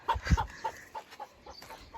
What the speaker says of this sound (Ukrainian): Це теж курка не моя.